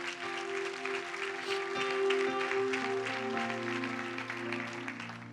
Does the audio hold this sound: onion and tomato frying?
no